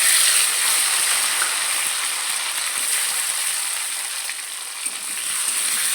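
Chopped tomatoes hit potatoes frying in oil in a pan, setting off a loud, even sizzle that hisses steadily and close up with little change throughout.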